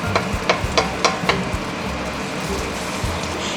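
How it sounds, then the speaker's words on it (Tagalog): Egg for a shrimp omelette fries in a little oil in a hot pan with a steady, close sizzle, and a few quick scraping stirs tap through it near the start. Nobody speaks. "Lalagyan natin siya ng kaunting oil. Pinainit na natin itong ating kawali. Nagawa tayo ng omelette."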